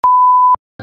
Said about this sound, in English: Let's pull the fire alarm.